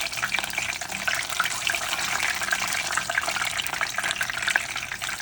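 Feta-stuffed squash flowers with wild spinach deep frying in oil, a dense, even crackling hiss with fine popping bubbles that runs continuously at close range, with no talking.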